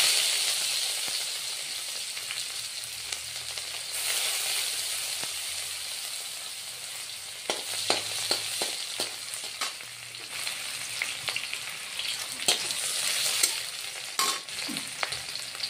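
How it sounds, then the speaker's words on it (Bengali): Chopped onions sizzle steadily in hot oil in a home kitchen while a fish and potato curry is being cooked, with a broad continuous hiss broken by scattered sharp crackles and occasional stirring clinks, close and fairly loud, with no talking. "পেঁয়াজ ফোড়ন দিয়ে দিলাম।"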